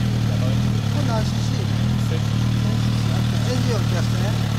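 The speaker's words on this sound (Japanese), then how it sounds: "エンジンを消してね" A Honda VTR1000F Firestorm motorcycle engine idles loudly and steadily nearby, a constant low throb with faint mechanical clatter.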